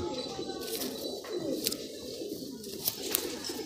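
Old-generation high-flying Madrasi pigeons coo softly in a loft, with low, repeated throaty calls and occasional light rustles heard close by, quiet and without speech.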